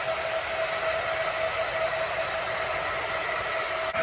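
An Everlast Powertig 255EXT welder's cooling fan runs steadily, giving a constant broadband whir with a faint tonal hum, close and even throughout, with no speech.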